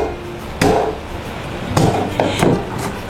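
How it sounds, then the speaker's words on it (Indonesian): Garlic cloves being smashed with a knife blade while cooking Bolognese sauce: a few sharp, close thuds on a board, one single hit then a quick cluster of three or four, with no talking. "Selanjutnya kita mau keprek-keprek bawang putih."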